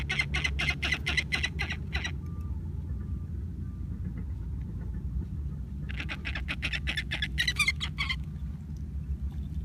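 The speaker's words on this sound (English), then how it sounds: "So you guys are hearing the happy sound, the chirping." A falcon's rapid high-pitched chirping calls after catching prey, in two bursts, repeated sharp notes with a pause of low rumbling background between them.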